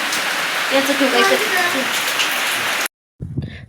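Steady rain hisses and patters throughout, heard from inside a darkened house, with a voice speaking briefly over it before a short silence and a few more words.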